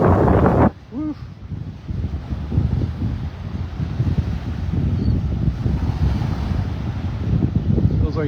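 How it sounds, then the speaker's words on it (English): Wind buffeting a microphone while walking along a Florida beach at Delnor-Wiggins in North Naples, a loud, rough, continuous roar that gusts and swells after a brief opening moment. "I'm gonna be walking right into the wind"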